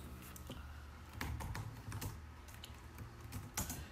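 Fingers type on a computer keyboard with quick, close, steady clicking that runs without a break and has no talking over it.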